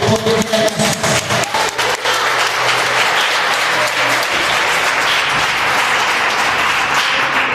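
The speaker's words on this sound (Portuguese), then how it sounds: "Dá um aplauso ao nosso Deus" A church congregation breaks into loud, sustained applause that fills the room evenly from start to finish, with no speech over it.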